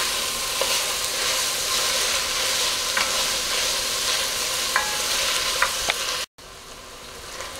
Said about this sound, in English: these onions have been cooking for about 3 to 4 minutes now